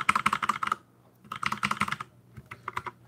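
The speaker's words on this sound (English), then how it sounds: "that's my keyboard and I love it. It's rainbow." Fast typing on a rainbow-lit computer keyboard, close and crisp, in two quick bursts of clicky keystrokes separated by a short pause, then a few scattered final taps.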